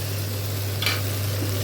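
Pasta being stirred and fried in a pan with vegetable garam masala, a steady soft sizzle under a constant low hum, with a brief brighter scrape of stirring near the middle.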